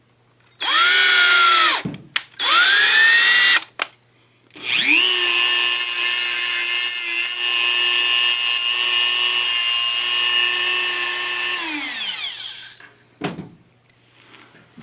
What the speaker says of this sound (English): you can actually take and chuck up an 8/32 tap and run it down the Revo rod ends themselves